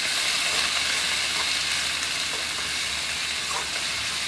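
Onions sauté in a hot pan as soy sauce is stirred through them, giving a steady, close, loud broadband sizzle with faint scraping of the stirring, and no voices.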